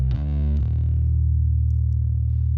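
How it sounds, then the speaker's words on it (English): Electric guitar chords with a light distorted edge and a shimmering effect, one chord struck then another left ringing and sustaining steadily to the end. "A little bit of distortion."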